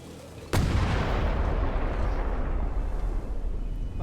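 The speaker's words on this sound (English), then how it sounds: "Shoot the cannon." A cannon fires in the Return to Monkey Island game: one sudden loud boom followed by a long, rumbling roar that slowly fades, with no voices.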